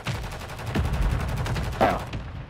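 Rapid bursts of gunfire in the video game Call of Duty, a dense, sustained barrage of shots with a few louder cracks, loud and close throughout.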